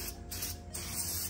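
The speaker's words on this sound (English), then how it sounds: "I'm gonna spray it and I'm gonna rub down the parts where the seal will reach on the valve cover just to clean it off" Car parts cleaner is sprayed onto the valve cover area of a 2010 Infiniti FX35 VQ35HR engine, giving close, steady pressurized hissing with two short pauses between bursts.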